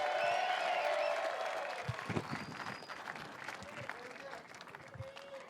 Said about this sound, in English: Give it up for Gary Young.